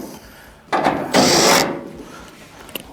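A 1/4-inch screw is backed out of the rear panel of a clothes dryer, heard close up as two short bursts of grinding, whirring driver noise. Small clicks and rattles follow.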